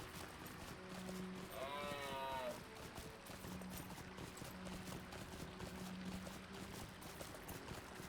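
A horse in The Lord of the Rings Online gives a single rising, neighing call lasting about a second and a half, over a steady bed of in-game ambience and hoof-like clatter.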